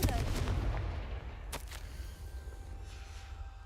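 Confringo fire spell blasts in a Harry Potter video game, a burst of rumbling explosive impacts up front followed by a sharp crack, then a fading roar under faint game ambience.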